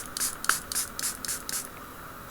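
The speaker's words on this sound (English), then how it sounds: "Then I'm supposed to spray the wrap." Several short hissing bursts from a spray bottle misting liquid onto a clear skin wrap for an HTC One M8 phone, close and crisp, coming in quick uneven pulses.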